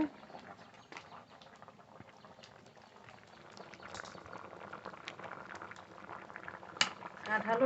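Potatoes boil in a pot, a steady low bubbling and simmering with scattered pops and small splashes, growing slightly louder toward the end; no one talks over it.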